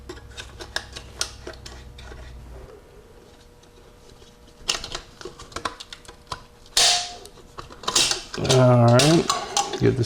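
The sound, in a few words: screwdriver prying out a snap ring from a Powerglide transmission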